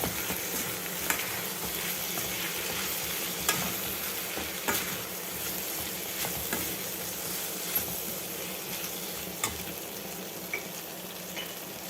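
Raw banana slices fried in a pan with turmeric are stirred: a steady close sizzle with soft scraping of the spoon, and small clinks and ticks scattered throughout, continuous and without talking.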